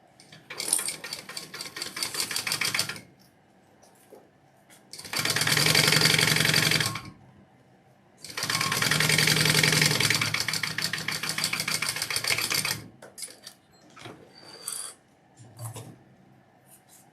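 A sewing machine bastes two fabric layers together, running in two long steady bursts of rapid stitching separated by short pauses, with quieter handling noises before and after.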